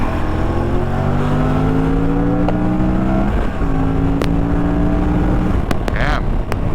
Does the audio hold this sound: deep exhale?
no